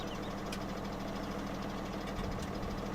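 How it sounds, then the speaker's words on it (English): A New Holland T6 tractor engine idles in Farming Simulator 2017, a low steady mid-pitched rumble with faint knocking that runs evenly throughout, with no talking. "We have a T6 New Holland tractor."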